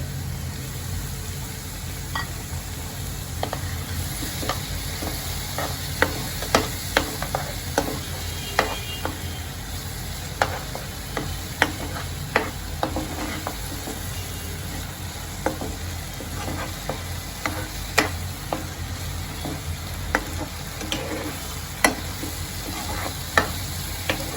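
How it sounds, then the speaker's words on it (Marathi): Tomato puree and spices fry in oil in a pan for a village-style shrimp curry, giving a steady low sizzle broken by frequent sharp clicks of a spoon stirring against the pan. "या सर्वांना मी पाच ते सात मिनिटापर्यंत चांगलं परतून घेते तेल सुटसपर्यंत मसाल्यांना परतून घेते"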